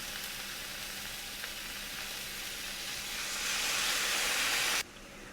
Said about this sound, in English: Now it's time to add the steak back into the skillet. I'm adding 1/4 cup of soy sauce